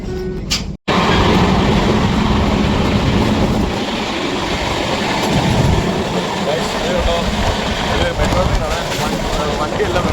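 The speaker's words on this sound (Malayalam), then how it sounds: "മറ്റേ പാസഞ്ചേഴ്സ് ട്രെയിനാണ് ഗൈസ്" A passenger train runs toward Bombay with a loud, close, continuous rumble of rolling carriages, broken only by a brief dropout near the start.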